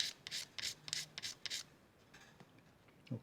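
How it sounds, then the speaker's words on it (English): Resin on the body of a Harley Benton TE 90FLT guitar is scraped sideways across a crack repair: about seven quick, faint rasping strokes in an uneven rhythm, then a few softer ones in a quiet room. "I'm going to scrape it sideways like this"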